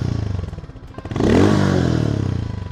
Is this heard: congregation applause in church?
no